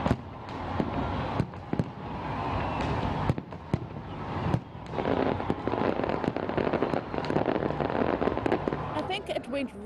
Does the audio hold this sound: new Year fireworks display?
yes